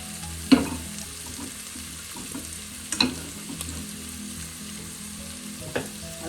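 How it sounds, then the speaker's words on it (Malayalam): Finely chopped onions sauté on low flame in a pan for mint-leaf chicken curry, a quiet steady sizzle broken by a few sharp clinks of a spoon stirring against the pan. "മിക്സ് ചെയ്ത് ലോ ഫ്ലെയിമാക്കി നമുക്ക് ഒന്ന് വഴറ്റിയെടുക്കാം."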